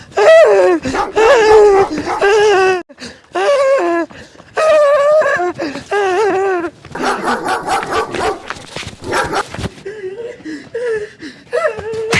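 A dog gives a loud, rapid run of high yips, barks and whining whimpers that rise and fall in pitch, nearly continuous with brief gaps.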